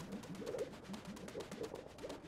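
A bird coos repeatedly in a steady rhythm in Super Mario Odyssey, soft and close, each low call following the last with short gaps and no talking.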